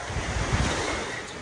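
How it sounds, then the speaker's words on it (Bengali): Sea waves roll onto a sunny beach in a short, full rush of surf, with wind buffeting the microphone and no voices. "সমুদ্রের আওয়াজটা শুনতে কিন্তু ভীষণ মজা লাগে"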